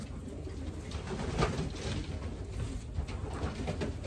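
A racing pigeon hen coos softly and repeatedly nearby, low throaty calls over faint background noise.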